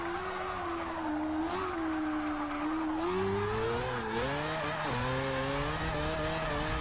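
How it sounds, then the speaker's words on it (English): A BMW in the racing game Forza 6 wheelspins its rear tyres, a steady engine drone with rising and falling rev pitch and layered harmonics running continuously for several seconds, loud and alone without any talking. "It does like to light the rear tyres up quite a lot."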